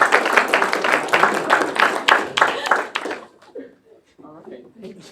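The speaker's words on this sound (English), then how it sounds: "give her a round of applause." A room of people at a student government meeting claps for a birthday, dense clapping lasting about three seconds before it fades out, after which a voice speaks.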